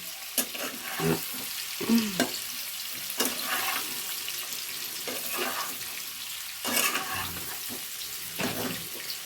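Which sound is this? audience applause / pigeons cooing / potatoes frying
potatoes frying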